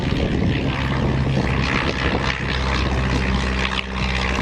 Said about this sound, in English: It's a Tiger Moth built by de Havilland's.